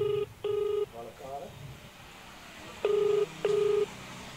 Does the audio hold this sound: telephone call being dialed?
yes